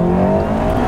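A Honda CRX EE8 VTEC spinning its wheels on dry tyres, with a loud, close, high-revving engine roar held steady through a brief burst.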